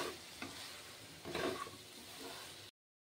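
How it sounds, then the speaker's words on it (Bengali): Pre-fried okra (bhindi) is stirred into cooked tomato in a pan for vendi dopiaza, giving a quiet, steady sizzle broken by a few scraping stirs, then the sound cuts off abruptly. "এবার আমি তাতে আগে থেকে ভেজে রাখা ভেন্ডিগুলি দিয়ে দিচ্ছি।"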